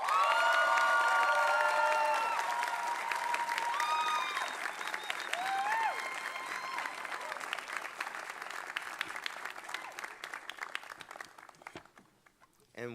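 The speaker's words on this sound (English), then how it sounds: "one more round of applause for our" Sustained crowd applause with some cheering fills a graduation recognition ceremony for master's degree graduates in global affairs, loud at first and gradually thinning toward the end.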